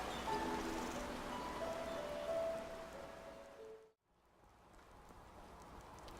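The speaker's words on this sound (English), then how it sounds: "Started raining on me." Steady rain falling in the Enderal Skyrim mod game, a soft continuous hiss with faint tonal game sounds over it, dipping briefly to near silence before the patter resumes.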